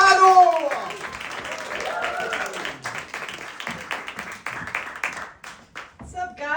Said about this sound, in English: Let's give a big round of applause to Ado.